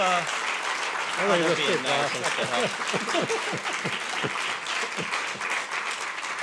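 An audience applauds at a summit honoring FCC Commissioner Michael Copps, with dense, sustained clapping throughout and a voice speaking over it.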